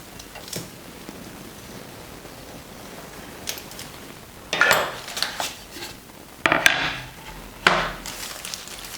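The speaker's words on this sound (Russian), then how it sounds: "Кладем дощечку и режем ножом для пиццы." Pizza cutter rolling through a baked cake layer on a wooden board, heard as a few separate knocks and scraping strokes against the board with quiet gaps between them, near and moderately loud.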